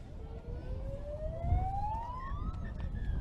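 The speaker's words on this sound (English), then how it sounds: "As the halftime siren sounds, so 16 points to 10." A halftime siren at a schoolboys rugby league match, The Grange College v Illawarra Sports, giving a single rising wail over a continuous crowd and outdoor stadium murmur.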